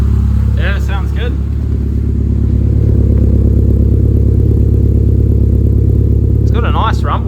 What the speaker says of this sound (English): Got a nice rumble to it.